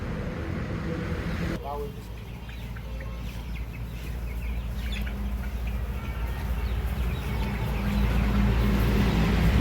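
Desi laying hens on a farm cluck and squawk in short bursts amid a steady low hum and background voices.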